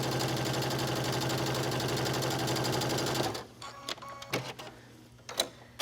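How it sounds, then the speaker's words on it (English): A sewing machine stitches knit fabric in a fast, steady mechanical whir for about three seconds, then stops, leaving soft handling clicks and rustles. "I'm just stitching these both in place at the exact same lengths of fabric."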